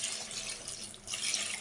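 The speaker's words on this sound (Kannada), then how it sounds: "ಇವಾಗ ನಾವು ಇದಕ್ಕೆ ನೀರು ಹಾಕೊಳ್ಳೋಣ" Water being poured into a pot of mutton curry, a steady close rushing pour that runs throughout and swells again near the end, with no talking.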